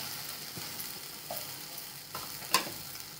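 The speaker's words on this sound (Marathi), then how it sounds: "शेंगदाण्याचा कूट पण टाकून घेते आता।" Crushed peanuts are stirred into cooking drumstick leaves, a faint steady frying hiss broken by a few soft scrapes and one small sharp clink, close and without speech.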